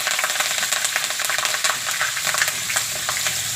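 Green chilies, garlic and ginger crackle in hot oil in a pan, a loud, dense, continuous sizzle with rapid popping and occasional stirring, close up and with no talking.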